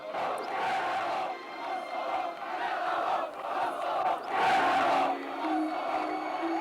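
A large crowd roars and shouts without a break at a 1987 Serbian rally in Kosovo Polje, near Pristina, as it turns rough with police. The dense, loud mass of voices swells and dips, with a peak of yelling near the end.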